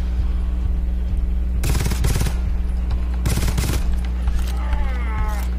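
Automatic gunfire in the video game GTFO comes in two loud, sharp bursts of rapid shots. Someone speaks briefly near the end.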